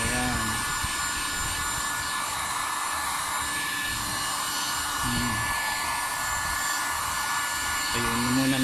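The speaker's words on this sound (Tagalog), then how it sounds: "Pero ingat sa pagbo-blower, baka maluto naman yung bumper" A heat blower roars steadily and loudly throughout as it dries a dented plastic car bumper during repair, a constant airy whoosh with brief faint sounds beneath it.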